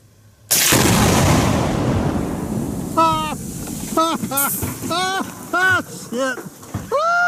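A Tannerite charge set to bring down a tree detonates in one loud, sharp blast that rumbles and decays for a couple of seconds, followed by close voices talking and exclaiming.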